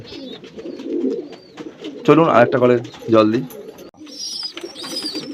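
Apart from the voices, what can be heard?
pigeons cooing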